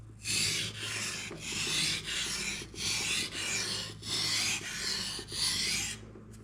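A katana blade drawn across a whetstone in light deburring passes, about ten rhythmic back-and-forth scraping strokes, close and crisp, with no talking.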